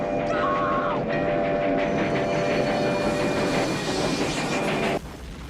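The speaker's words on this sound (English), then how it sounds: "They're getting chased by a train." Train from the Stand By Me chase scene, a loud, sustained rumble of rolling wheels with a long tonal whistle-like blare over it, cutting off abruptly near the end.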